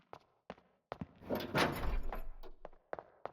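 In the video game Life is Strange, a car door thunks shut amid a cluster of short knocks and thumps, with one longer, louder rustling impact in the middle; no one speaks.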